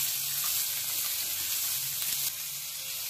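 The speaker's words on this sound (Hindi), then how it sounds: "और अब हमें इसे बिल्कुल मीडियम फ्लेम पे अच्छे से पकाना है।" Green peas with green chili and coriander powder cooking in a pan on a medium flame, giving a constant soft hissing sizzle that stays even throughout, close up and without any voices.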